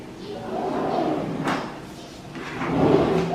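Drawers of a cast-concrete I-shaped kitchen with solid wood cabinet fronts slide open and shut, a few close rolling runs with a sharp knock in the middle, loud and alone.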